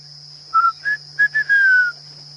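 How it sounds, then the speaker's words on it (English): Fiery-necked nightjars call at night in the African bush, a series of clear whistled notes, short at first then a longer descending phrase, standing out against a steady insect hum. "There's a couple of them calling fiery neck nightjars."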